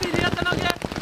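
Heavy rain falls outside a camping tent, a dense steady patter heard close by, with people talking over it.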